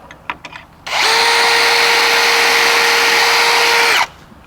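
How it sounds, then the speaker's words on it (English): A power drill spins up and bores an angled pocket hole into the side of a timber decking board using a Kreg deck jig, a loud steady high whine lasting about three seconds alone, then cutting off abruptly. "it's best if you bring the drill bit up to speed before you let it make contact with the timber like so"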